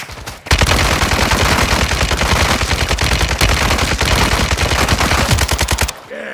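Rapid, evenly spaced machine-gun fire rattles loudly and almost without pause for about five seconds in a MechWarrior Living Legends match, then cuts off abruptly.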